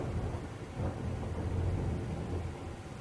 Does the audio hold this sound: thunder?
yes